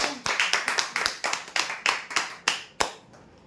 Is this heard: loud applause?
yes